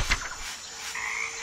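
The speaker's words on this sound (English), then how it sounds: "Sa English, frog. Sa Tagalog, palaka." A frog croaks alone in a short burst, with a rough, raspy call followed by a higher sustained trill, fairly close and clear against a faint background.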